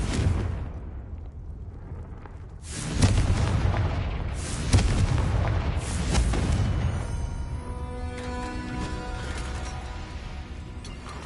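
A Confringo explosion spell is cast in a Hogwarts video game: a booming blast erupts about three seconds in. A rumbling roar follows, then sustained ringing, tonal game effects trail off.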